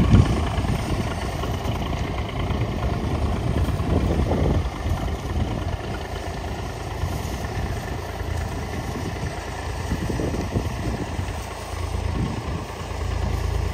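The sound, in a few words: tractor engine pulling a potato digger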